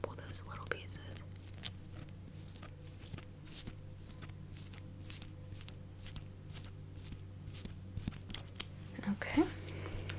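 Small precise scissors trimming eyebrow hairs, snipping in a steady run of soft, close, crisp cuts under quiet whispering.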